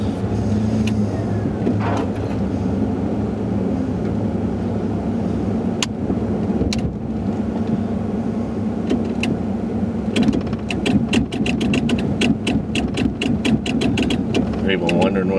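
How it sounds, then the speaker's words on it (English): A snow plow truck rumbles steadily at idle nearby, then a burst of rapid metallic knocks and rattles breaks out in the second half as the plow blade is shaken to clear off snow. "I'm shaking the snow off the front of the plow."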